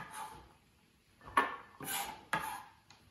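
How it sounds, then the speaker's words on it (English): A knife chops carrots on a cutting board in a home kitchen while making Bolognese sauce: three separate, crisp cuts spaced about a second apart, close and fairly quiet, with no talking. "So we'll cut up the rest of the carrots."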